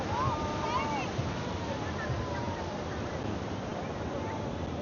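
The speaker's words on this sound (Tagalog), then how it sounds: "Tapos kita nyo naman yung alon, no? Super lakas, super laki." Big, powerful ocean waves roll onto a La Union beach in a steady broadband wash of surf. Wind noise runs through it, and a voice talks faintly over the water.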